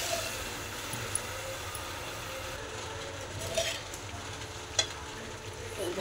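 Hot tempering hits cooking khichuri with an even, close sizzle that runs throughout, broken by a couple of small clicks and clatters.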